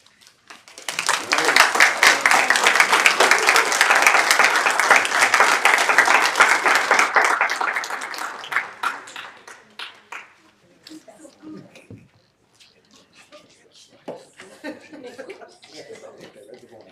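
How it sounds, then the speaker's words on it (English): Audience applause after a children's performance at a church gathering, a dense, loud burst of many hands clapping with some chuckling that swells for about eight seconds, then fades into scattered claps and quiet room noise. "Once again, a round of applause."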